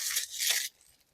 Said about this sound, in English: I just want to rip the paper.